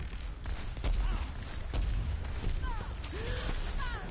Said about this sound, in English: that is a rocket shot, which allows her to shoot a rocket from her little weapon area here